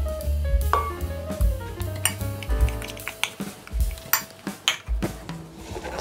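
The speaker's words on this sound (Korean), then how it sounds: "잘 섞어주세요." A spoon clinks and scrapes around a bowl while chili powder seasoning, gochugaru with Cheongyang chili powder, is mixed for geotjeori kimchi. The metallic taps come close and in an irregular rhythm.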